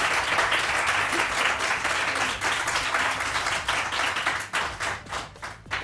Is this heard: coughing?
no